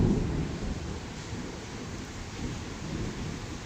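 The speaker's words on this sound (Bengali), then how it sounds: "বাইরে ঝমঝমিয়ে বৃষ্টি পড়ছে, বাজ পড়ছে, রান্নাটা একদম জমে যাবে।" Heavy rain pouring outside with a low rumble of thunder during a storm, a dense steady wash of rain with a deeper roll at the start, no voices.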